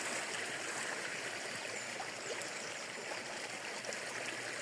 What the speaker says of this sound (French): Je sais pas si vous entendez la petite source qui coule.